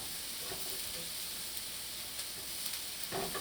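Onion, ginger and garlic sauté in a pan with a soft, continuous sizzling hiss and a few faint stirring scrapes, heard up close with no voices.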